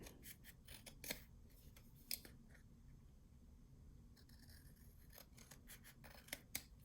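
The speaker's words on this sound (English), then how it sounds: "just simply fold this back a little and trim it" Scissors trimming single-sided paper for a handmade flipbook album, quiet close snips and paper rustling scattered in short clusters, with a few sharper cuts standing out.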